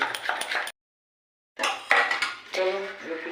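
Metal cookware clatters as a lid is set over a cooking pan while making chitoi pitha: a short rattle, a pause of silence, then more clanking with a brief ringing tone at the end.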